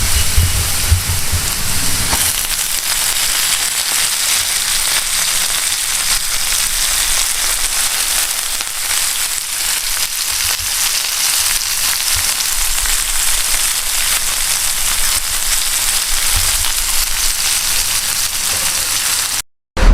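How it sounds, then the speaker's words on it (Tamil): Rain falls outside in a steady hiss of bright, dense patter, fairly loud and close, holding without pause until a brief cut at the very end; no one talks. "அப்படியே நம்ம வந்து வெளியே பார்த்தோன்னு வைங்களேன், மழை பெய்யுது."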